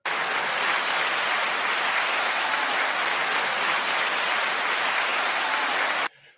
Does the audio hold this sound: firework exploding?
no